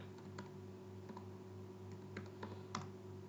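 Typing a password on a computer keyboard during a MySQL database login: soft, uneven key clicks at close range over a steady background hum, with no talking.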